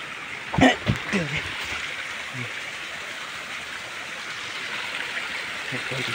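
A small stream runs down from a market in a steady, close, broadband rush of water, with a brief voice and a few knocks near the start before the flow continues alone.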